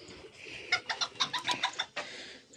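Desi chickens, including a fancy breed and an Aseel rooster, cluck on a backyard farm in Karachi in a quick run of short, sharp calls, close by and moderately loud, with no talk.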